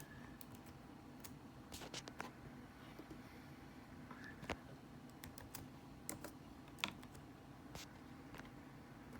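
Fingers tapping on a computer keyboard, a quiet irregular patter of close keystrokes with a few louder clicks, steady throughout and without speech.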